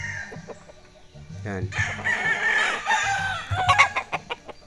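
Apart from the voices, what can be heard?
young fighting rooster (stag) clucking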